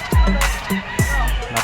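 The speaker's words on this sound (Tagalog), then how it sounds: "napakarami na ng manok dito sa Bulacan." Roosters crowing and fowl clucking at a Friday poultry and pet market in Bocaue, Bulacan, with several loud, close calls overlapping in quick succession.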